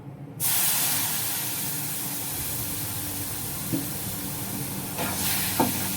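Milk poured into semolina roasting in a pan for suji gulab jamun, starting with a sudden loud hiss that settles into steady sizzling, with a couple of soft stirring knocks near the end.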